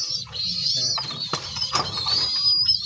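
Racing pigeons coo softly close by while wings flap in short bursts inside a loft of cages, and the busy bird noise carries on without pause.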